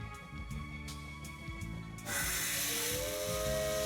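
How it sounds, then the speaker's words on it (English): In the Maitetsu video game, a steam locomotive's whistle blows with a loud, sustained hiss of steam and a rising tone after a quieter stretch of rhythmic chugging and music. "The steam whistle sounds off,"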